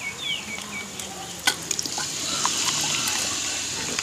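Biryani being stirred with yogurt in a pot over heat, outdoors in a village kitchen; steady sizzling and scraping stir sounds with a few sharp clinks of the utensil against the pot, no talking.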